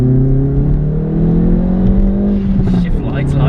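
A 300bhp Hyundai i30 N Performance engine revs steadily upward toward nearly 7,000 rpm, its pitch climbing over a few seconds, loud and close, with voices talking faintly underneath.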